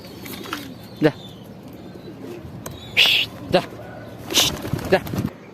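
A pigeon coos in several short, throaty bursts at close range, separated by pauses, over a low background murmur inside a house.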